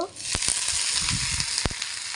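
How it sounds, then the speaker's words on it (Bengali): Young Malabar spinach leaves dropped onto fried potatoes in a hot pan, giving a loud, dense sizzle with a few sharp crackles and stirring knocks underneath. "এবার পুঁই শাক পাতাগুলো দিয়ে দেব"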